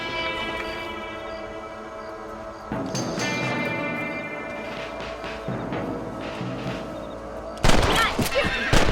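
Rifle shots ring out in Red Dead Redemption during a rabbit hunt, a loud burst of gunfire near the end over music and ambient game sound.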